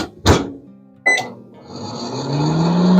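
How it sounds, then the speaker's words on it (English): A microwave oven holding a popcorn popper is started: two sharp clicks or beeps from the door and keypad, then the steady hum of the oven running and growing louder. "Now, we place the pop into the microwave for 3 minutes."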